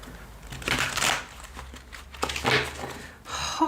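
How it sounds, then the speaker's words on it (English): Tarot cards being shuffled by hand, several quick papery bursts of riffling and crinkling, close and fairly soft, with brief pauses between them. "I'll give this a quick shuffle."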